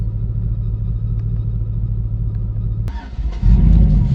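2005 Chevy Tahoe's 5.3 LS V8 idling with a steady low drone, then a sharp click and stutter as it cuts out and fires back up into a louder, rougher rumble, close by.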